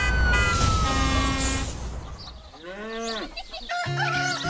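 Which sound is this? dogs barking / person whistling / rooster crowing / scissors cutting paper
rooster crowing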